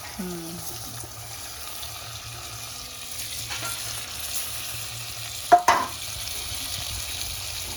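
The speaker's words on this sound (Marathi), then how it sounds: "आता फोडणीला लसूण टाकलाय आणि तेल गरम आहे" Steady sizzling of garlic frying in hot oil, continuous and moderately loud, with a couple of sharp clinks of a utensil against the pan partway through.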